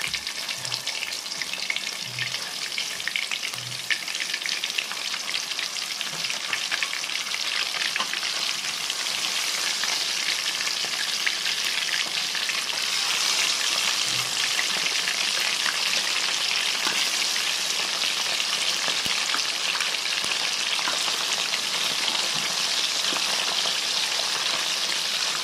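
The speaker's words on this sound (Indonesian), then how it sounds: "Nah, setelah minyak panas kita bisa masukkan ikan." Selar fish frying in hot reused cooking oil in a wok, a steady loud crackling sizzle throughout with occasional soft knocks, no talking.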